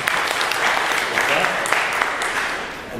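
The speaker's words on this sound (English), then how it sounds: "the round of applause goes to all of you" Applause from an audience at a Gimmel Tammuz gathering, a dense, steady wash of many hands clapping at moderate loudness for the full stretch, with no voices rising above it.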